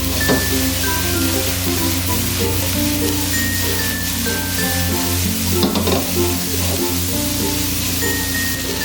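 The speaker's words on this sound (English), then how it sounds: "Stir fry for at least 20 seconds." Beef and peppers stir-frying in a wok, a loud, dense sizzle with a steady hum behind it and bursts of clattering tossing near the middle, no speech.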